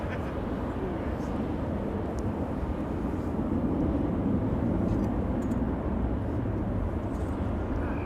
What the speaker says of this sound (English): Emirates Sky Cargo going to Frankfurt over here